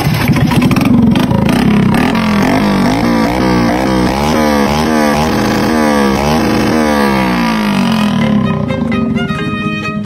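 A Honda NCX set up as a drag bike on a temporary exhaust pipe revs repeatedly, its loud, close engine note climbing and falling in rapid sweeps with no voices over it.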